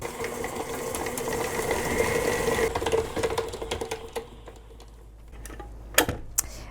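An electric mixer whirs steadily while creaming butter and sugar for sugar cookies, then cuts off, leaving a few close clicks and knocks.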